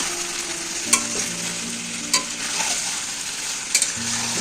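Chicken curry fries and sizzles in a pan with a constant hiss, broken by a few sharp spoon scrapes and knocks as it is stirred, close and clear.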